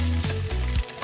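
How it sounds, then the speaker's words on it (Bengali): A medium onion sizzles in hot oil mixed with ginger paste, a loud, steady frying hiss with a brief stirring pulse through the short burst. "একটা মাঝারি সাইজের পেঁয়াজ ওর মধ্যে দিয়ে দিলাম"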